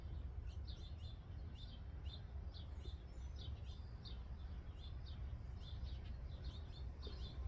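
Birds chirp and sing in back-garden trees, faint repeated tweets over a steady low rumble of outdoor background noise.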